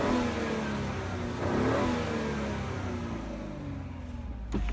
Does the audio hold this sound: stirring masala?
no